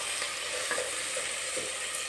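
Cloves, cardamom, cinnamon and a bay leaf fry in hot oil with a soft, steady sizzle and faint stirring scrapes, close and continuous, with no voices.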